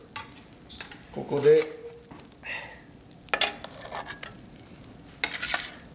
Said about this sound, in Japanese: 強火でバターを溶かしてあげてください